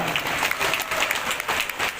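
A crowd applauds at a UIN Jambi university graduation ceremony, with dense, steady clapping that fills the hall.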